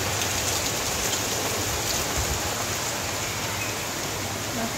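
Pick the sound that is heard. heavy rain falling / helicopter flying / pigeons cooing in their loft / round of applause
heavy rain falling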